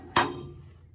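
A single metal chisel, about 24 inches long with a mushroomed end, gives one sharp close clink that rings briefly and fades within a fraction of a second.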